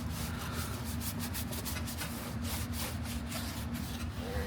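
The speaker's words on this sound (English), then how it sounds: "you can use the brush to scrub the actual tire" A brush scrubs the tire of an abandoned Datsun being detailed, a steady continuous rough rubbing with rapid back-and-forth strokes, close and alone.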